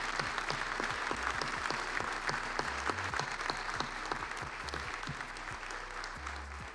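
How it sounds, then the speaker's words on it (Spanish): Audience applause at the inaugural conference of a UNESCO chair on science for peace, a steady crowd of clapping hands with individual claps standing out, continuous and moderately close. "quiero pedirles a todos un fuerte aplauso para ellos"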